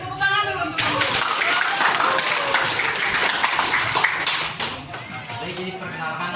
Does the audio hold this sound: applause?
yes